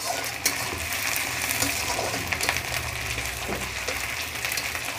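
Potato samosa filling fries and is stirred in a pan, a loud, steady sizzle with scraping spoon strokes and an occasional clink against the metal.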